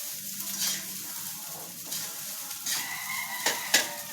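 Garlic fried rice (sinangag) sizzles and is stirred in a pan, with soft scraping strokes and a couple of sharper clinks of utensil on metal near the end.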